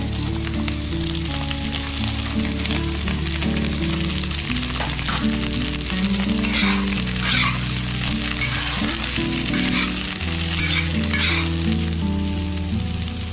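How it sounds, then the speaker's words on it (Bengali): Capsicum and onion frying in a pan with ginger, garlic and green chilli for veg manchurian, giving a loud, steady sizzle throughout with a low steady tone beneath. "এখন আমি ডালি এটার মধ্যে ক্যাপসিকাম আর পেঁয়াজ"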